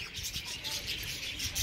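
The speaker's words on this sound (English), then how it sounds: "Oh, birds all over my phone." Many small birds swarming in and around a bird cage give quick, faint, repeated chirps and tweets over a soft background hiss.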